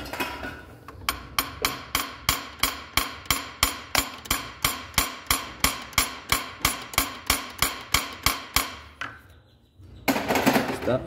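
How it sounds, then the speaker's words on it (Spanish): A hammer taps steadily on a stuck part of a Chevrolet Ecotec 1.4 turbo engine; about two dozen sharp, evenly spaced, close metallic knocks follow one another, then stop, before a brief burst of rustling noise. "Es que ocupo irle dando así como unos golpes así suavecitos"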